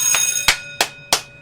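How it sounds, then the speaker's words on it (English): A classroom timer alarm signalling time is up chimes in four sharp, ringing bell-like tones about a third of a second apart, each decaying quickly, close and clear with no talking. "That was the alarm to let me know that the time is up."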